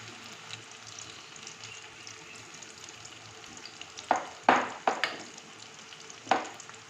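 Soya chira pakoras sizzle and crackle steadily in hot frying oil, a close, even hiss broken by a few sharp stirring scrapes and clinks toward the end.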